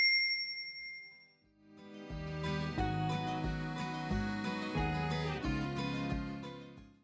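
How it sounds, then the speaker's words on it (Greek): A notification bell dings, a bright, faint tone that rings out, then a soft tinkling melody of repeating bell-like notes continues at low volume. "πατήστε το καμπανάκι και επιλέξτε να λαμβάνετε όλες τις ειδοποιήσεις"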